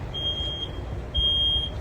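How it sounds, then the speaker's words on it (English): Smoke detector shrilling during a live burn demonstration with a chair on fire, two sustained high electronic tones about half a second apart, loud over a low rumble of fire and room noise. "The other smoke detector went off."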